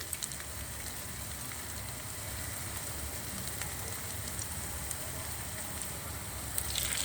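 Noodle pakoras dropped one by one into hot oil in a pan fry with a steady, even crackling sizzle that sounds almost like rain, heard close and alone with a few sharper pops near the end.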